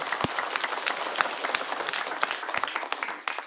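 An audience claps for santri at an Islamic religious gathering in West Java. The applause is moderately close, with sharp individual hand claps standing out over a crowd's patter, and it thins toward the end.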